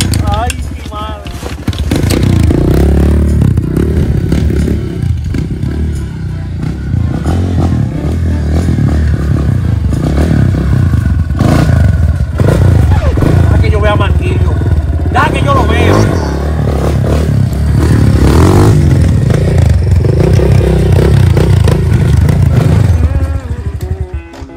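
Motorcycle engine revving loudly and continuously for about 25 seconds, with clattering and scraping noises and a voice talking over it throughout.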